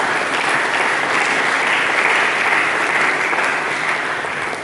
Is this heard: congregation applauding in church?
yes